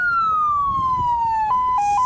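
Ambulance siren wailing loud and close, one long tone sliding slowly downward, then breaking into short alternating high-low pulses at the end, with faint street rumble beneath.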